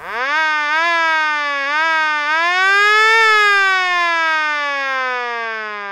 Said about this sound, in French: On a entendu la sirène